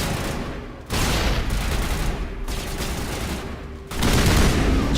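Turrets in a 2007 space RPG video game fire at the player, a steady, loud burst of rapid gunfire with heavier volleys kicking in at intervals, no talk over it.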